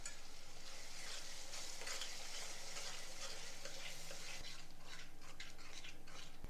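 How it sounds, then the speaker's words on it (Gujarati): Whisked curd being stirred into simmering tomato gravy in a pan over a low flame: a soft, constant sizzle with the scrape of a spoon against the pan and a couple of light clicks, close but quiet, no talk. "ગેસની ફ્લેમ સ્લો કરી અને અડધા કપ જેટલું ફેટેલું દહીં ઉમેરી મિક્સ કરી લેવાનું છે"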